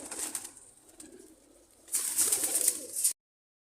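Soft, close cooing from pigeons in a loft, a burst at the start and a fuller stretch of rustly cooing near the end, then silence.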